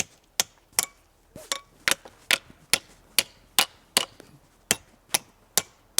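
A steel wall hammer strikes a climbing piton driven to the hilt in rock, about a dozen sharp metallic blows in a steady rhythm, loud and close, with no talking.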